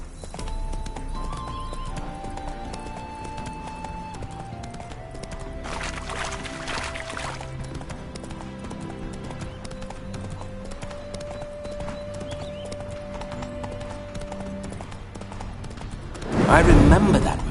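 The horse Roach, in The Witcher 3 video game, walks with steady rhythmic hoof clip-clops under a sustained musical drone and background game sounds, ending in a louder noisy burst.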